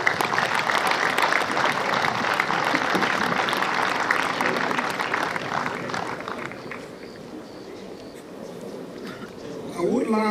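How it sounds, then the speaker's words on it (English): An audience at a boys' hockey tournament ceremony claps steadily for the players for several seconds, then the applause thins out and fades as a voice begins near the end. "They deserve a round of applause."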